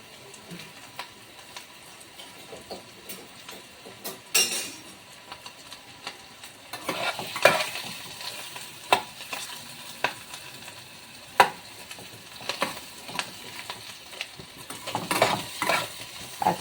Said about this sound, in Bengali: সেদ্ধ আলুটা ভাজতে দিয়ে দিলাম